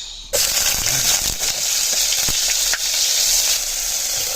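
Ginger drops into hot oil for chicken gizzard adobo, and after a brief quiet moment a loud, close sizzle bursts out and crackles steadily.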